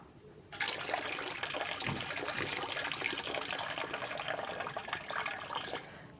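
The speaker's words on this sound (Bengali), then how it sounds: "ছোলার ডালটাকে এবার ভালো করে মা ধুয়ে নিচ্ছে।" Water pours and trickles steadily while chana dal (split chickpeas) is washed in a kitchen, a continuous close splashing flow that starts abruptly and runs for several seconds without speech.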